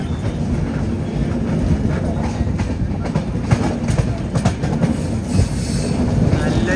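Kerala Express passenger train rolling through a curve on its approach to Katpadi railway station: a steady, loud rumble of wheels and carriages with scattered clicks and faint metallic squeal throughout.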